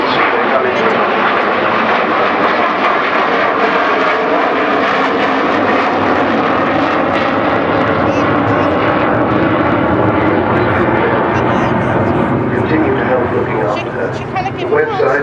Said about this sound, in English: Doing a fairly low approach, going to go round again and get the wheels up